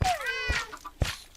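A Minecraft cat lets out a clear meow, a single rising-and-falling tonal call followed by two short soft chirps, close and loud with no speech over it.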